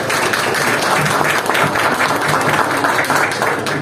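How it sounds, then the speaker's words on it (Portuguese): Dense, sustained applause from an audience at an academic award ceremony and book launch, many hands clapping together in an even, continuous wash. "Palmas para a professora Adriane."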